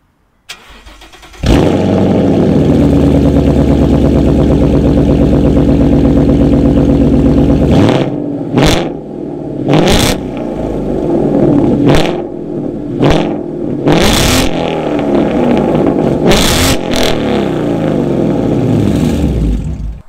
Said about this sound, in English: I will actually let you listen to the exhaust right now, and you will listen to the cutback exhaust, our Roush cutback exhaust.